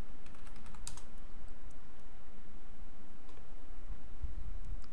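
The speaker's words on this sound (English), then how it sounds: "I'll open Google and type in trim JavaScript" Fingers type on a computer keyboard at close range, a steady, fast run of soft clicking key taps with no voices.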